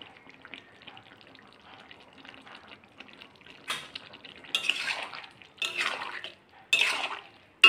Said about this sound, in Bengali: ঘিটা দিয়ে আমি আরেকবার নাড়িয়ে দিলাম।